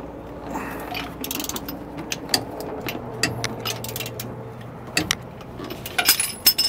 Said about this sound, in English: have a 1 1/8 inch socket that we're going to use to remove these